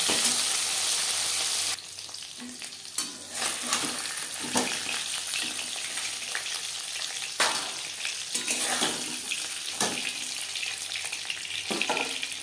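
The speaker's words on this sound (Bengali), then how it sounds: "একটা সাইড ভাজা হয়ে গেলে অপর সাইডটা উল্টে দেবো।" Hilsa fish pieces fry in hot oil with a steady, dense sizzle throughout, broken by sharper crackles and occasional scraping as pieces are turned; the sizzle drops slightly in level after the first two seconds but continues close and loud.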